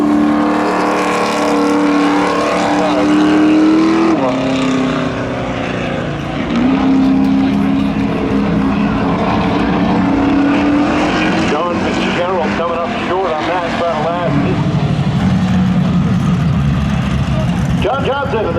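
Race cars including a Chevy Camaro and a Pontiac Trans Am at Seekonk Speedway, loud engines roaring and shifting pitch as they pass, with an announcer talking over them continuously.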